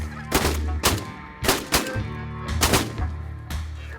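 Shotgun blasts fired in quick succession at geese during a field goose hunt in Ontario, with about six sharp reports over a few seconds and goose calls audible between them.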